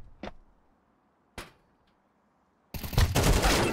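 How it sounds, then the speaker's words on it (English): Gunfire in Counter-Strike 2 on the Overpass map during a Wingman match: two short sharp shots a second apart, then a dense, loud burst of rapid automatic fire continuing to the end, with no talk. "you're getting shot in the ass from spawn, are you?"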